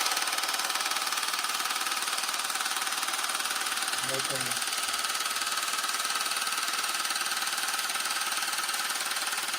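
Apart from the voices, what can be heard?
GainsWave acoustic wave therapy device running loudly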